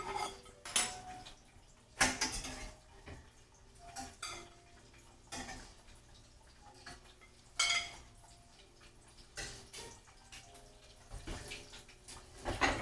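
Plates and cutlery clink and scrape while a plate of potatoes, onions, sausage and okra is dished up, irregular knocks and taps over several seconds, close and fairly quiet, with no voices.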